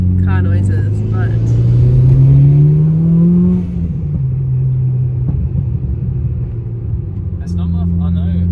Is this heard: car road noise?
yes